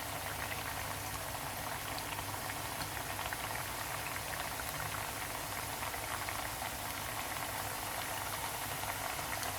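Plantain chips frying in oil over medium heat, a steady dense sizzle and bubbling crackle that stays even and close throughout, with no voices.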